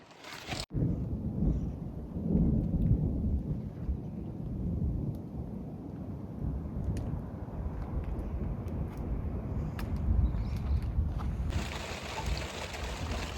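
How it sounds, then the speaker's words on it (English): Heavy rain pours steadily onto a tent with its fly on in the backcountry of western Canada, a dense, close, continuous drumming roar with no voices. "Well, guys, it is raining a lot. A lot. My tent. Yeah, it's pouring rain."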